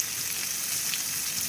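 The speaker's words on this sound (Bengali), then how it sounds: "আমি অল্প পরিমাণ তেল নিয়েছি, নিয়ে কিছু সামান্য রসুন কুচি অ্যাড করে দিয়েছি এর মধ্যে। রসুন কুচিগুলো একটু লালচে হয়ে ভাজা হবে।" Chopped garlic fries in a little oil, a short, steady, moderately loud sizzle with a fine crackling hiss throughout and no voices.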